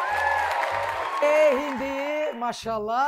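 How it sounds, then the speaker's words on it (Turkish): Applause from a studio audience on a cooking competition show rises briefly and fairly softly, then gives way as a host speaks over it. "Bir alkış alalım."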